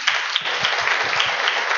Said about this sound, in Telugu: క్లాప్స్ కొట్టి గట్టిగా కొట్టు, మా గట్టిగా